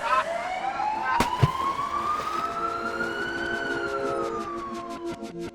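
A police siren wails loudly, its pitch rising and then falling in a long sweep, with a sharp knock near the start.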